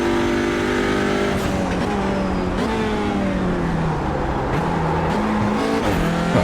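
Audi RS3 TCR race car engine roaring in iRacing at Indianapolis road course, loud and continuous with the revs rising and falling through shifts, a harsh close-up drone with no talk.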